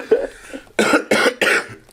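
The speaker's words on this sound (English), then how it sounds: "sorry if like you hear me coughing or sniffling" A sick podcast host coughs close to the mic: one short cough, then three loud harsh bursts in a steady rhythm, with brief gaps of quiet between them.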